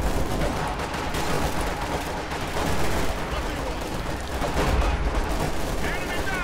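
Machine gun fire rattles on in Company of Heroes 2 amid a dense, continuous battle din of rapid shots and booms, loud throughout with voices faintly mixed in.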